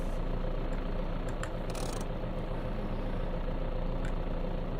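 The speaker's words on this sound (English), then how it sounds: "Yeah, I'm gonna turn this truck off." A truck engine in the survival video game VEIN rumbles at a steady idle, a low, even drone with no talk over it.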